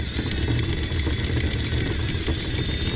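A small sailboat's engine roars steadily at high revs in neutral, a constant loud mechanical drone with no voices.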